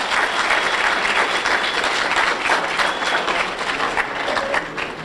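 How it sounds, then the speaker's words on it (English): An audience claps steadily for the organizers at a conference, a full, even round of applause from a sizable crowd that carries on without a break and has no speech over it. "So let's give everyone who worked so hard a round of applause."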